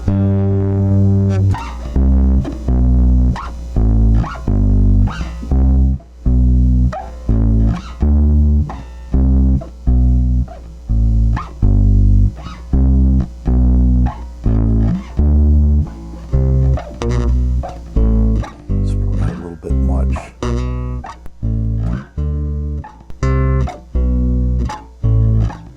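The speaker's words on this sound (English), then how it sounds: "You can hear the distortion coming in." A Lindell 77x 500 preamp driving a repeated low, rhythmic musical phrase into distortion, loud and close, the grit and fuzz growing across the passage, with no talk.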